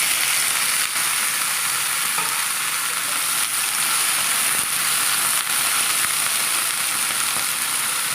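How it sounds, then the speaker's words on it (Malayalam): Okra sautéing in a little coconut oil, giving a loud, steady close-up sizzle with occasional faint stirring clicks. "നമുക്ക് ഈ വെണ്ടക്കായ ഒന്ന് വഴറ്റിയെടുക്കാം."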